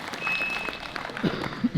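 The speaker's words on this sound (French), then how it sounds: "Applaudissements" Applause from a crowd at a CrossFit-style games event, a brief burst of clapping with scattered louder claps standing out toward the end.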